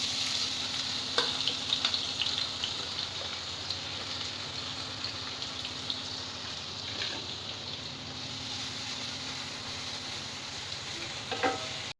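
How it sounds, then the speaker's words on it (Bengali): Finely chopped onions fry in garam masala over a low gas flame, giving a steady dense sizzle and crackle with occasional stirring scrapes and no voices. "এবার এই পেঁয়াজটা আমি দিয়ে দেবো।"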